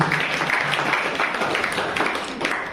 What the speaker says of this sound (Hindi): तालियों से स्वागत करें।